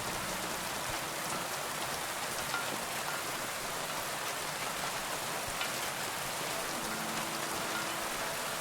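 Steady rain pours in a video game with a continuous, even hiss of drops hitting the ground, moderately loud and unbroken, with no voices over it.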